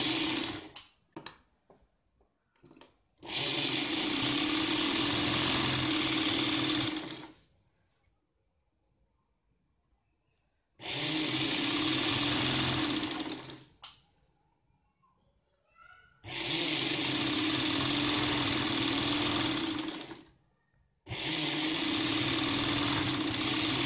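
An electric sewing machine stitching blouse sleeves onto the lining fabric runs in three long, steady whirring bursts of several seconds each, loud and close, separated by near-silent pauses with a few soft clicks.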